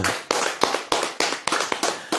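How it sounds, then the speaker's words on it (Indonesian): An audience claps in bursts, with sharp separate onsets repeating roughly every third of a second and no talking over them. "Tepuk tangan."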